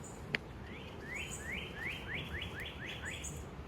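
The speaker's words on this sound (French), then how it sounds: "Je ne connais pas les noms des oiseaux." Songbirds in Quebec City trilling a rapid series of rising chirps, about ten evenly spaced notes in a row, moderately near, with a sharp click just before and faint outdoor background.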